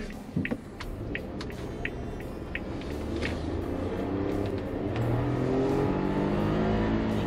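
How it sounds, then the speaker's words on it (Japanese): A 2021 Suzuki Jimny with aftermarket aero parts accelerating while driving, its engine rumble building steadily and growing louder over a continuous road-noise bed, with no talking. "意外と加速するんだよね"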